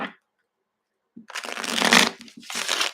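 A brief pause, then crisp riffling of a deck of cards being shuffled, two bursts of flutter close up.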